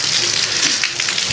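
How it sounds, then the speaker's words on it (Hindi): Heavy monsoon-season rain sets up a loud, dense hiss of drops pelting surfaces, steady and close for a brief moment. "ये देखें बड़ी तेज़ बारिश आ गई है"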